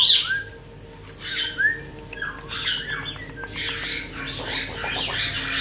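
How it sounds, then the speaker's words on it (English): A pet bird perched on a person's shoulder gives several loud, sharp squawks in separate bursts, close by, with faint room noise between them. "And we got Mango on my shoulder. Spikey-bird"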